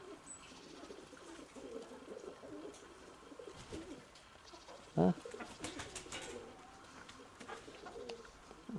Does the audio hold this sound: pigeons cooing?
yes